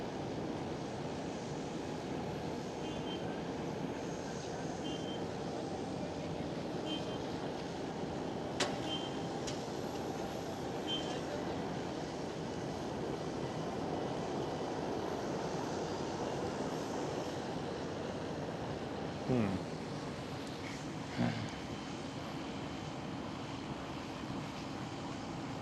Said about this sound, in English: There goes KM Malta Airlines.